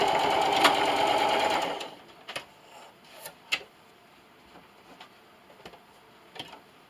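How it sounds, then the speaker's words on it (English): A sewing machine stitches a fabric microwavable popcorn bag in a fast, steady whir close by, then stops abruptly, leaving a series of scattered clicks and ticks as the stitching ends with a backstitch. "When you get to the end, don't forget to backstitch."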